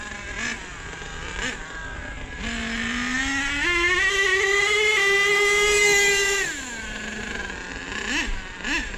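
Nitro RC car engine running on new clutch bells, spur gears and a new fuel mixture, idling then revving up to a high, sustained whine before dropping back, loud and close with a few short blips afterward.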